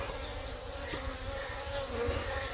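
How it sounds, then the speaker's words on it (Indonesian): Bees swarm around a hive as it is pulled apart, a dense, continuous buzzing drone that stays steady and fairly close with no voices over it. "Ini bener-bener lebah nih, lebah."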